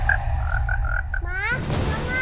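A frog croaks in a repeating pattern of short calls, clear and fairly close, over a low steady background hum.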